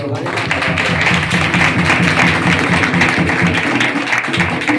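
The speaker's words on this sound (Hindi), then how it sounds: "मोर प्रभु महिमा पाई बड़ जोरदार ताली मारी" A church congregation at a Christian gathering claps loudly and continuously in praise, a dense, even wash of hand claps filling the room.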